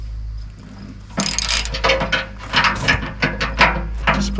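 Bolts on bolt-on bucket hooks get tightened with a ratcheting wrench on a Kubota LX2610 compact tractor bucket: a low steady hum, then from about a second in, a run of close metallic clicks and scraping bursts in an irregular rhythm.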